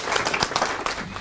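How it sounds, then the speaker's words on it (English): A crowd at a citizens movement launch claps for an incoming speaker, a short, lively burst of close applause. "a big round of applause for him"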